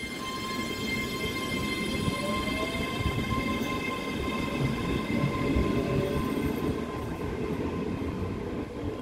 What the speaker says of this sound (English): we have got the 1417 ScotRail service from Alloa Queen Street